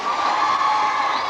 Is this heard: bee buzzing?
no